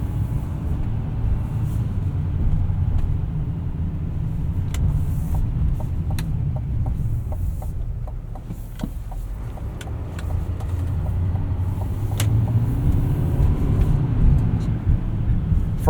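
A 2025 Chevrolet Silverado 2500 Trail Boss pickup driving on the road in four-wheel drive, with a steady low engine and road rumble inside the cab and occasional light clicks and rattles.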